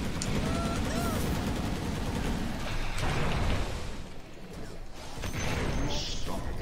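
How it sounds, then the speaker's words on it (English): Fireworks exploding in the Dota 2 video game, a rapid dense crackle of bursts at high volume, dipping briefly partway through before resuming. "Firework!"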